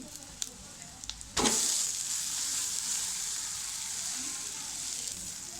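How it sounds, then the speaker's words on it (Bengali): Lentils hit a pan of frying onion and chili, setting off a sudden loud sizzle after a few light taps, then a steady hiss continues while the mixture is stirred. "এখন ভেজে সুন্দর করে নাড়াচাড়া দিয়ে একসাথে মিক্স করতে হবে পেঁয়াজটা"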